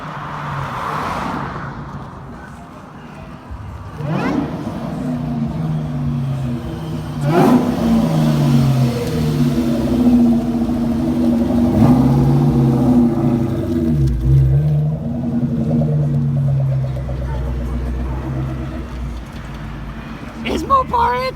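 A car pulling up and revving: a steady mid-pitched engine drone that swells and dips over about twenty seconds with a couple of throttle rises, nearby, under people talking.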